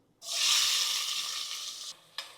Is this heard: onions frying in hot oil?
yes